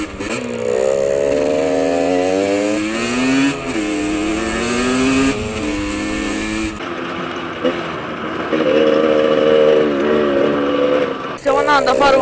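An enduro motorcycle engine revs and drones up and down as the bike rides, loud and close, with a voice speaking over it at moments.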